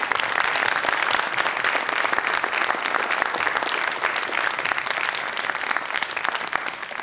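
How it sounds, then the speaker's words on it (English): Audience at an evening ceremony applauding a violinist and pianist, dense sustained clapping from a full room, loud and continuous throughout without speech. "Please, another round of applause for them."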